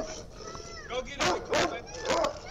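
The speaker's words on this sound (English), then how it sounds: "Yeah, here's a dog right here." A dog gives a few short yips and barks close by, clustered in the second half, with no talk over them.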